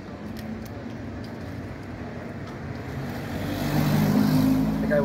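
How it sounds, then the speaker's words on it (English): Cars pass along a street in Watervliet or Troy, New York, a steady low traffic rumble that swells as one vehicle approaches and passes close by near the end. "And there are cars coming"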